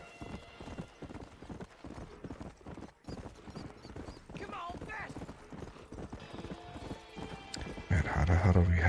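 Horse hooves clip-clop in a steady, busy rhythm in Horizon Zero Dawn, close and continuous, mixed with game sounds and someone talking throughout, louder and denser near the end.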